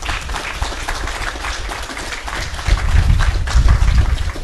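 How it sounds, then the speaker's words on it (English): Audience applause at an outdoor campus groundbreaking ceremony, a steady spread of clapping that swells louder in the second half, with low rumbling wind or handling noise underneath. "So give him a round of applause."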